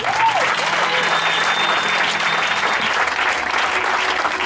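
A church congregation at a Sunday service bursts into loud, sustained applause that fills the room, with a faint murmur of voices mixed in throughout.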